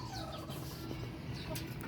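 A hen that has just laid an egg, a white chicken being bred on a small farm, gives soft, steady clucking throughout, close by over a constant low background hum.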